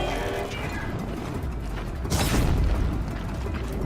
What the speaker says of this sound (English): Jesus, that explosion is huge.